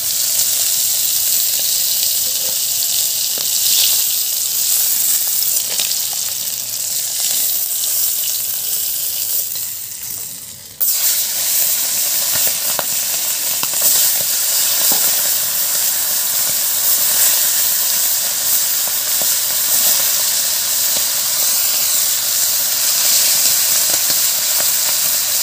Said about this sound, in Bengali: মাছগুলো অল্প করে ভেজে আমি তুলে নেব